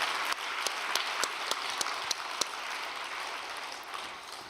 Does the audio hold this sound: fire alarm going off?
no